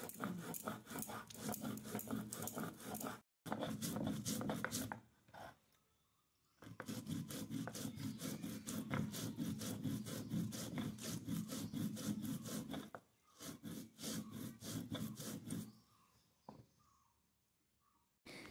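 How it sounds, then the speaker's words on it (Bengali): A stone grinding pestle scrapes spice paste on a flat shil nora grinding stone, making a steady rasping back-and-forth rub in long continuous runs broken by a few short pauses, close and fairly quiet. "আমি শিলনোড়াতে পেস্ট করে নিব।"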